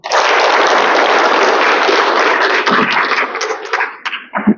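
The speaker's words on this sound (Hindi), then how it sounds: "एक बार जोर से ताली बजाएं।" An audience at a spiritual talk bursts into loud, dense applause that holds steady for several seconds, then thins into scattered claps and dies away.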